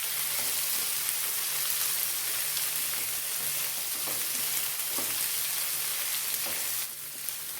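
Bitter gourd sautéing in a pan for pickle, a steady close sizzle with occasional soft stirring clicks, easing slightly near the end.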